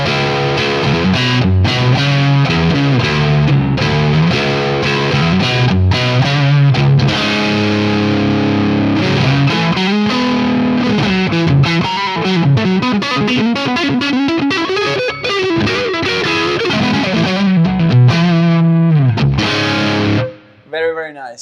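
Distorted electric guitar through a Boutique Tones BT MkV amp plays loud, driven riffs and chords for a sustained stretch, the picking attack hard and gritty before a brief drop at the end.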